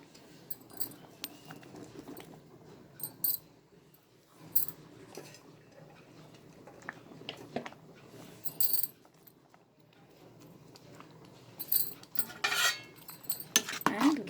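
Vegetable masala khichdi is mixed in a pot with a spoon: quiet, scattered metallic scrapes and clinks come in irregular bursts over a low background hum.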